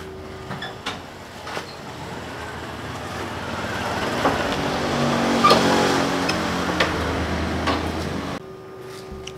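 A car approaches and drives up, its engine swelling gradually from a distant hum to a close, louder rumble before cutting off near the end, with no voices over it.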